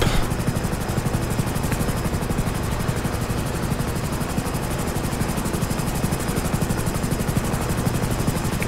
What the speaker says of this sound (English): Alright, nearly are at the helicopter here.